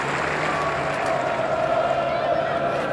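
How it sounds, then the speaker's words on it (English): Distant, steady applause from a cricket crowd at the Basin Reserve acknowledging a 100 partnership during a 1992 World Cup match, a soft continuous patter under a commentator's voice. "the crowd here at the Basin are a little bit slow to realise that it's up, but they're now acknowledging it"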